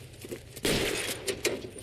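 Gunfire in the video game L.A. Noire: a sharp burst of shots with a crackling, shattering edge, followed by a couple more cracks, moderately loud against a low background.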